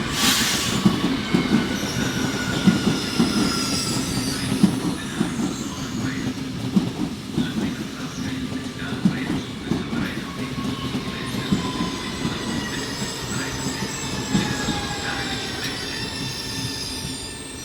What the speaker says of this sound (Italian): Il treno regionale veloce di Trenitalia, proveniente da Trieste Centrale e diretto a Venezia Santa Lucia